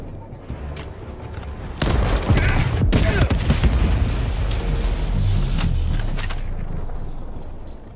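Grenade blast and gunfire from Helldivers 2 combat, a loud burst of booms and rapid shots building after the first couple of seconds and staying dense and chaotic throughout.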